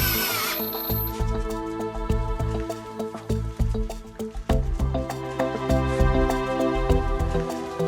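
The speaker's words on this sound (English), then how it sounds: "my favourite part is the power screwdriver" A veterinary surgeon's power screwdriver driving screws into a metal bone plate during pet surgery, close repeated whirring bursts with rhythmic clicks and metallic ringing, no talk.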